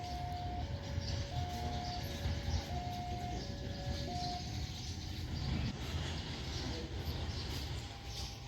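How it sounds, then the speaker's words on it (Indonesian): Locomotive CC 203 01 runs in a shunting move at Lempuyangan station after being detached from the Pasundan train. A steady diesel rumble is broken by a sequence of short electronic tones, heard from some distance, with faint station ambience. "langsiran 230107 dari jalur 2 lokomotif X dinas KA Pasundan dilepas di Lempuyangan"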